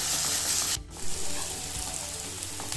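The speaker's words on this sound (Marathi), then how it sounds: "पुन्हा साधारण 2 ते 3 मिनिटं हा कांदा आलं लसणाची पेस्ट परतून घेणार आहे।" Onion with ginger garlic paste sautés in a pan over medium heat for a paneer dish, a bright close sizzle with spatula scrapes and a brief dip in the frying noise early on; nobody speaks.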